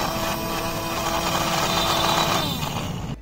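A small portable blender's 6-volt motor runs steadily nearby with a loud, constant high whine and buzzing hum, then cuts off at the end.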